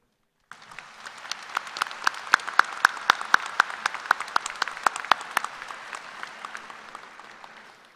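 A large commencement audience gives a round of applause for graduates' family members and friends, the clapping swelling quickly to a loud, crisp peak, then gradually thinning out and fading.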